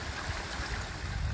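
Creek water cascading over small waterfalls and rapids, heard while kayaking in spring: a steady, close, broadband rush of flowing water with no talk.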